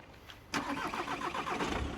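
A used Mercedes-Benz S350d in a hot outdoor lot gives a sudden starter crank and catch about half a second in, then settles into a close, steady mid-pitched idle after a quiet, hissy start.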